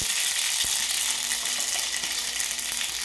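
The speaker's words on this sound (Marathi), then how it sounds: "आता मोहरी तडतडून देणार आहे" Mustard seeds crackle and pop in hot oil while a tempering for village-style sambar is made, a steady bright sizzle broken by scattered sharp little pops throughout, close up and loud.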